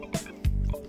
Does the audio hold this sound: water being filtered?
yes